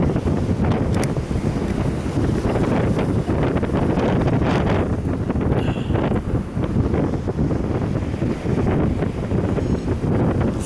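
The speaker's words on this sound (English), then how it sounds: "That wind's picking right up." Strong wind buffeting the microphone with a constant low roar, gusting continuously over what sounds like open water.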